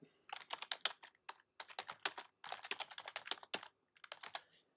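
Keystrokes on a computer keyboard while entering text on a Mac, a close, quick run of irregular clicks in bursts separated by short pauses, with no voices.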